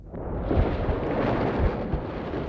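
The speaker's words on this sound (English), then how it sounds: "Along with the ear-splitting sound of an explosion, I was slammed with an even greater impact than before." A loud, rumbling explosion from the visual novel game Chaos;Head Noah, a dense low boom with sustained roaring debris that fills the whole stretch without any talk.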